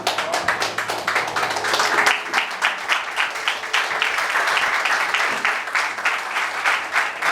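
A church congregation claps in a steady rhythmic beat, dense and sustained for several seconds, with faint voices underneath.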